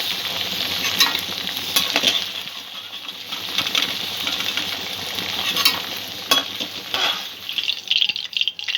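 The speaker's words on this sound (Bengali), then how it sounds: "2 মিনিট আমি তেলের মধ্যে ঢ্যাঁড়সটা নাড়াচাড়া করেছি" Okra (bhindi) stirred in hot oil in a pan sizzles steadily, with scattered scraping and clinking stirring strokes and no voices.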